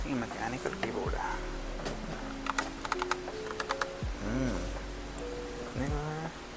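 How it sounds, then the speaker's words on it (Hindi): Clicky keystrokes from a Razer mechanical keyboard rattle in quick irregular bursts, close and fairly quiet, while people talk over them in a shop setting. "ये मैकेनिकल कीबोर्ड है।"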